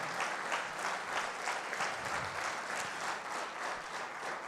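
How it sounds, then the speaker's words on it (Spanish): Steady, dense applause from a conference audience on intelligence and cybersecurity in Mexico, sustained evenly with no talking over it. "Nuevamente le brindamos un fuerte aplauso a nuestro conferencista."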